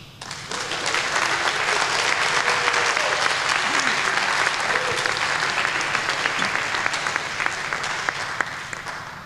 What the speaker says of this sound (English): I believe this really, really is worth a special kind of applause